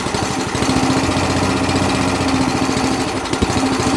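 Qualcast 35S petrol cylinder mower engine idling roughly and unevenly, a loud steady close chug with an irregular misfiring beat and no speech.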